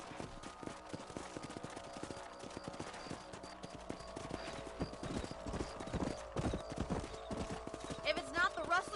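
Horse hooves clip-clopping in the western video game Red Dead Redemption, a steady trotting patter with a brief whinny near the end, heard faintly beneath characters' dialogue.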